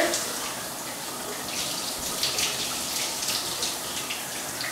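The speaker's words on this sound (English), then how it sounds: "then I like to run the water" Tap water runs in a steady, hissing stream over conditioned hair being brushed out, close and continuous with slight splashing fluctuations.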